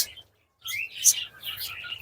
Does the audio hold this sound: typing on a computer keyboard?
no